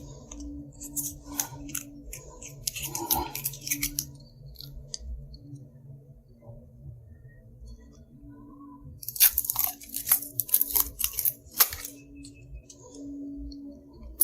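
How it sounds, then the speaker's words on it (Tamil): Adhesive tape is peeled and pulled off the battery of a Bluetooth speaker under repair, giving bursts of crackly ripping and crinkling with small clicks in between, close up, with no talking. "பேட்டரியில் டேப் சுற்றி வச்சுக்கிறாங்க. டேப்பில் ரிமூவ் பண்ணிடலாம்."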